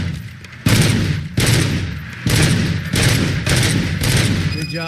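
Repeated bursts of rapid gunfire at a shooting range in the video game RoboCop: Rogue City, loud and close, coming in several sustained volleys separated by brief pauses.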